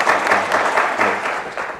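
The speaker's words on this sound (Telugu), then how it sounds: "ఒకసారి అందరు క్లాప్ చేయండి," Large convention audience in Chicago clapping together, a thick sustained wash of applause up close, steady with slight swells and no talk.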